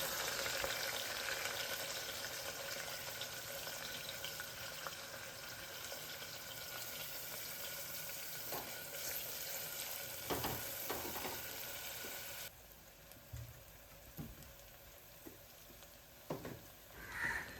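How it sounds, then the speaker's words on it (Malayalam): Chopped large onions hiss and crackle in hot coconut oil in a cooker, a steady broadband sizzle that carries on for a long stretch, then drops quieter with scattered pops and clinks near the end. "ഇനിയിപ്പം നമുക്ക് ഇതിലേക്ക് വലിയ ഉള്ളി ചേർത്ത് കൊടുക്കാം."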